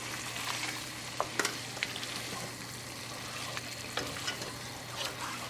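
Beef sizzles and fries in a pan of cooked tomato for a creamy curry, with a steady crackle broken by occasional sharp clicks of a stirring utensil.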